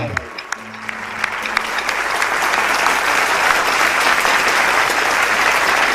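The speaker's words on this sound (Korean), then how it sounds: "감사의 박수를 부탁드리겠습니다" A large congregation at a Korean memorial festival breaks into thanksgiving applause, which swells quickly into a loud, sustained roar of clapping that fills the hall.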